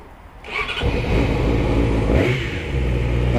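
Geared motorcycle fires up on its electric starter with a brief cranking whir, then catches and settles into a steady, close idle.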